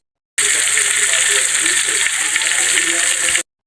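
Steady, loud sizzling of bangus (milkfish) frying in hot oil, a continuous crackling hiss that starts and stops abruptly with no talking.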